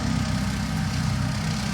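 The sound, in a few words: Kioti tractor running a bush hog mower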